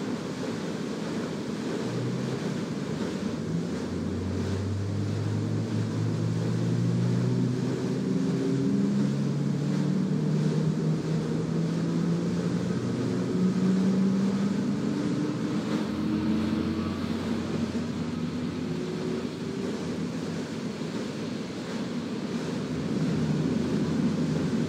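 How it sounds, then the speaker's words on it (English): Twin high-thrust jet engines idle on an aircraft carrier deck in Microsoft Flight Simulator 10, a steady loud roar with low rising and falling whine tones under windy rushing noise, continuous with no talk. "Now that both engines are running, release the brakes and ease the throttle forward very slightly."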